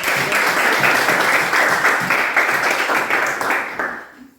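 Classroom audience applauds after a student chemistry presentation on molecular shapes, a dense steady burst of many hands clapping that holds for about four seconds, then quickly fades to quiet.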